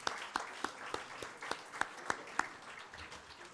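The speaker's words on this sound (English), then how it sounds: "so give yourselves a big round of applause." Scattered applause at a JAG 25th anniversary dinner party, a thin spread of individual claps with a few sharp, distinct hand claps standing out, moderately quiet in a room.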